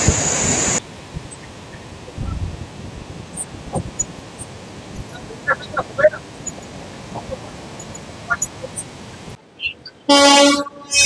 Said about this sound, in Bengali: আমাদের দুরন্ত এক্সপ্রেস এই মুহূর্তে পার করছে রূপনারায়ণ নদীর উপর কোলাঘাট ব্রিজ